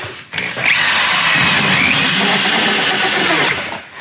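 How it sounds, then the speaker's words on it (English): A large power drill fitted with a big bit bores into a wall, running loud and steady for about three seconds after a short start, then winding down; no voices. "Let's drill inside this wall."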